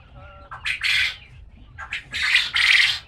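Farm birds squawk loudly inside a laying shed during the evening, in several close, harsh bursts separated by brief pauses.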